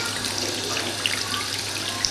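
Hot water runs steadily from a tap after a combi boiler power flush, a continuous near splashing hiss with small droplet ticks, alone with no voices.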